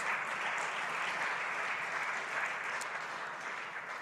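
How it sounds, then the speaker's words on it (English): Applause from an audience at a USDA Ag Day event honouring students, a continuous, fairly faint and distant-sounding hiss of many hands clapping at a steady level. "Let's give them another round of applause."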